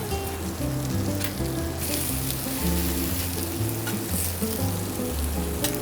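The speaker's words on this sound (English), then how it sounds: "I'm actually pan frying my egg on the griddle" An egg pan-frying on a chromium-plated griddle gives a steady, close sizzle with crackling spatter running the whole time, with no talk.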